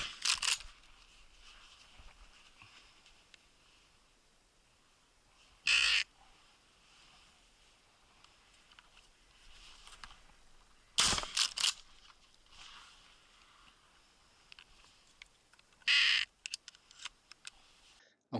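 Loud, harsh bursts from a Primus Power Crow call sound in short clusters several seconds apart at a crow shoot, with quiet rustling in between.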